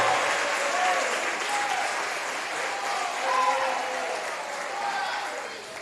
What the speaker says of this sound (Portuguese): Aplaude a Jesus de Nazaré.